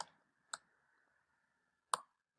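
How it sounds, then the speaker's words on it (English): A computer keyboard's return key is pressed, giving a few sharp, isolated clicks spaced irregularly, close and fairly quiet in a silent room. "if I do hit the return key on the keyboard"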